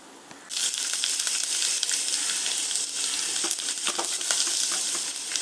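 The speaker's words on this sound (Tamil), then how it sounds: "ஆயில் ஊற்றியாச்சு. இப்போது இதில் கடுகு," Mustard seeds dropped into hot oil for a sambar tempering burst into a loud, steady crackling sizzle that starts abruptly and continues with scattered popping, close up and without talk.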